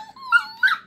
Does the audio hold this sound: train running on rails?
no